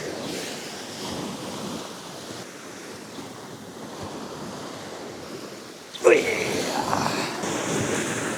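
Steady roar of surf washing in close by, with wind buffeting the microphone; a louder wave crashes and hisses partway through.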